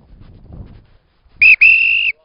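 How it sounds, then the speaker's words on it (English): A coach blows a double whistle at GAA training, two loud shrill blasts close together, the first short and the second held longer, following a moment of faint background noise outdoors. "It's going over the bar on a double whistle."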